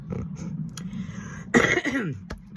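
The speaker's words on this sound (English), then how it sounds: "Got a little cold cough." A short cough from a cold bursts out partway through, close and fairly loud, over a low background hum.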